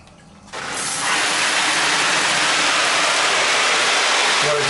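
A shower with strong water pressure switches on after a quiet moment, then pours as a loud, steady hiss of spraying water that fills the rest of the clip with no talking.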